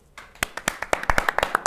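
A small studio audience on a gaming show claps, starting from near silence with a few separate sharp claps that quickly build into a quick, uneven run of close, crisp hand claps.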